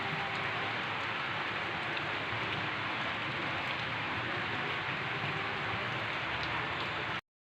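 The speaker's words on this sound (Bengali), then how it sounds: "এখনও কিন্তু ভালো জোরেই বৃষ্টি হচ্ছে" Heavy rain falls steadily in the evening with an even, unbroken hiss and patter throughout, ending abruptly.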